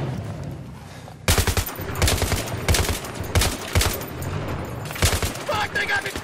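Enemy gunfire in Battlefield 3 breaks out abruptly after a quieter stretch, then continues as loud, dense bursts of automatic fire with repeated sharp volleys mixed with battlefield noise.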